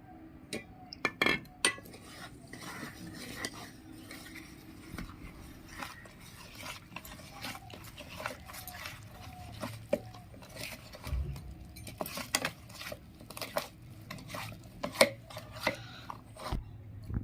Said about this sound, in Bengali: অল্প অল্প করে দুধ দিয়ে আমি এটাকে ভালো করে মিশিয়ে নেবো